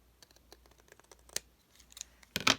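Scissors trim paper for a handmade book with a series of quiet, close snips and rustles, ending in a louder burst of cutting.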